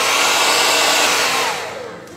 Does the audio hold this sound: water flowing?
no